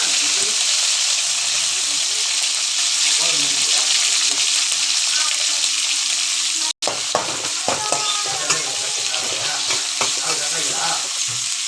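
Cinnamon, clove and cardamom sizzle loudly in hot oil for tempering, a steady dense frying hiss with brief crackles, cut by a momentary gap before the sputtering resumes with scattered pops.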